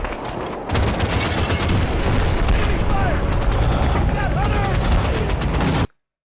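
A Scorpion tank from Halo firing in an animated battle, a loud, dense barrage of gunfire and booms that runs continuously for several seconds before cutting off abruptly.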